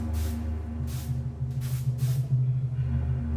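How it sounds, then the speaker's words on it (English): Chlorine disinfectant sprayed over a room and a body in an animated short, four separate spray bursts of hiss over a low droning background hum, no talking. "They sprayed Grandfather's room and his body with chlorine to destroy the Ebola"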